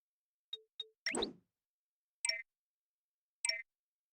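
Several short bright chimes and plinks from collectible pickups in Sly Cooper: Thieves in Time, spaced apart with silence between, mostly clean, with one brief rustling burst near the start.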